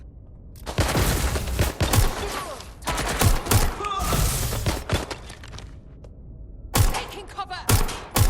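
Bursts of gunfire in Watch Dogs: Legion crack in loud, repeated volleys, with a few separate clusters of shots and some thuds between them, and a voice speaks briefly over the action.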